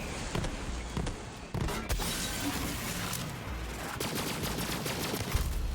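Enemy gunfire in Borderlands 3, with bursts of rapid shots, impacts and crashes over continuous combat noise, fairly quiet and dense throughout.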